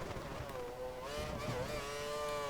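Formula 1 car engine in the racing game F1 2013, a steady high-pitched whine that rises slightly in pitch as it accelerates, loud and close with no talking.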